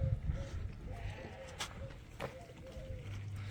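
Sheep bleat at a crowded outdoor livestock market, several short calls at moderate distance mixed with general bustle and someone talking.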